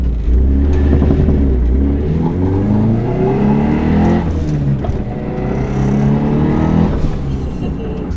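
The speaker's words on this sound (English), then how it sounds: "Bro, your car is so freaking loud." A 600 WHP Subaru WRX fitted with nitrous accelerates hard, heard from inside the car. Its loud engine note climbs through the revs in rising sweeps, dips briefly, then pulls again, with no talking.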